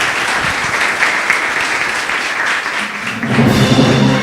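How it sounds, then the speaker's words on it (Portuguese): A church congregation claps together in steady, dense applause that fills the room, swelling slightly louder near the end, with no talking. "Palmas para o Senhor."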